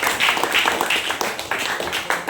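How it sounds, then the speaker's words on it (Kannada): An audience claps for quiz teams at a quiz competition, steady dense clapping throughout at moderate loudness. "ಅವರೆಲ್ಲರಿಗೂ ಮತ್ತೊಮ್ಮೆ ಚಪ್ಪಾಳೆ."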